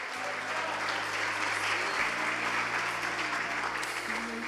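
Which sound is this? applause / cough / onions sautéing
applause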